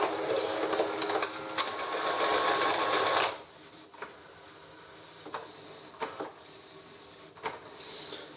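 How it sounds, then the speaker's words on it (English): An HP Photosmart 5510 inkjet printer fitted with a continuous ink system copies a document with its lid open. A steady mechanical whirring runs and then cuts off abruptly, followed by scattered quiet clicks and ticks. "So it's just scanning the document under the lid now"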